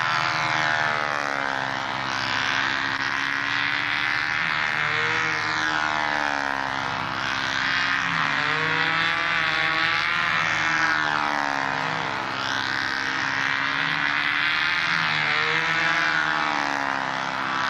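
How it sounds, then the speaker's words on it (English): A radio-controlled Cardinal 15 model airplane with big checkerboard markings flies overhead, its small engine giving a steady, loud buzzing drone that rises and falls in pitch as it passes and circles without pause. "it almost looks like Billy Suarez's plane in the air with the big checkerboards"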